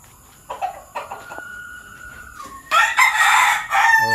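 SBR and Tornado hatch pullet chickens are heard, with a rooster crowing loudly and clearly after a few short clucks and calls at the start.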